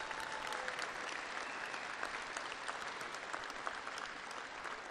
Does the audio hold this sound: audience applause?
yes